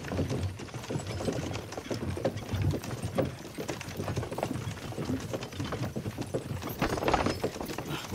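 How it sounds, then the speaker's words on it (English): Horse hooves clip-clopping at a slow, steady walk in Kingdom Come: Deliverance 2, several animals' footfalls overlapping in a close, continuous rhythm with faint mechanical creaks of tack and no talk. "don't you think maybe we could make the horses go a little faster?"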